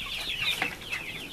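Young Dominant breed chicks about two months old clucking and peeping nearby, a quick run of high chirpy calls with no talking.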